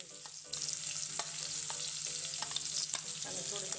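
Chopped onions and ginger-garlic paste sizzle in oil in a frying pan for a vegetable pulao, a continuous hiss broken by scraping stirs and little pops, close up with no voices.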